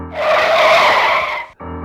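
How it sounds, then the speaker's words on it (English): Car tires screech to a stop in one sustained, loud skid lasting over a second, then cut off abruptly before a low engine hum resumes. "His car screeched to a stop."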